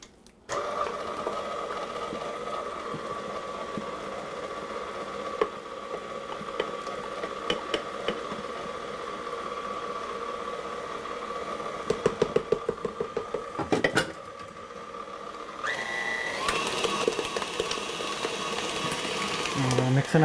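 An electric mixer beats white chocolate raspberry cake batter with milk and cream, a steady close motor whine that holds for most of the stretch, then shifts pitch and grows louder near the end.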